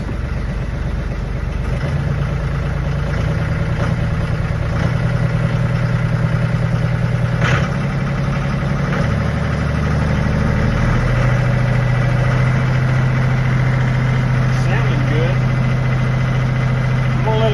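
A hay-baling tractor engine idles at about 1500 RPM, giving a loud, steady, unbroken mechanical drone with a slight shift in pitch partway through.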